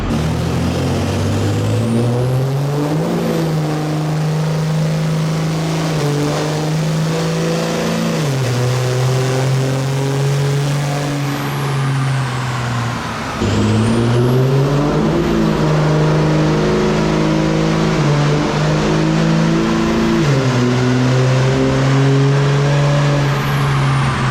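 Ram 2500 Cummins diesel pickup on a dyno, engine droning loud and close in long sustained pulls, pitch stepping up and down through several cycles with a short dip midway.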